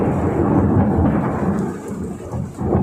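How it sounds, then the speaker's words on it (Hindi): Heavy rain pours in a dense, loud hiss, with a deep rolling rumble of thunder underneath, steady and close throughout. "इतनी तेज़ बारिश हो रही है, इतनी तेज़ बारिश हो रही है एंड थंडर।"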